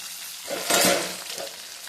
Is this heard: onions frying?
yes